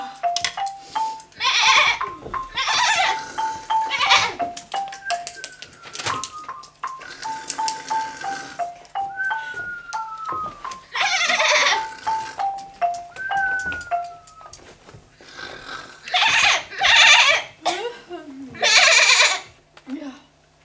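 A grazing goat bleats in several loud, wavering bursts amid a melodic tune and a voice speaking, the calls coming close and recurring through the scene.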